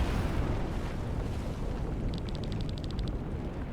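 Rumbling explosions in the Chained Echoes video game, a continuous loud roar with a burst of rapid crackling pops toward the end.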